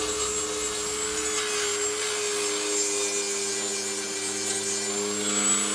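Dremel rotary tool trimming a bird's beak, a steady high-pitched whine that holds even and close without pause from start to end.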